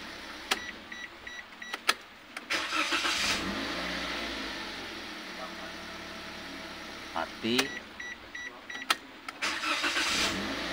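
A Toyota Calya car engine being started and shut off, with brief mechanical clicks and cranking bursts, a short running stretch, then another start attempt, heard close in a quiet workshop setting.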